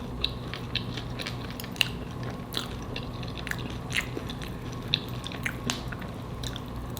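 Close, wet chewing and biting of a homemade chicken pot pie spaghetti bake, with soft squishy bites repeating irregularly and no talking.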